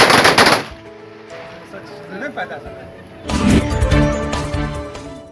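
A guard of honour fires a ceremonial gunfire salute at a funeral in Madhupur, Jharkhand: a loud, rapid crackling volley opens, and after a quieter stretch with voices a second sustained burst follows.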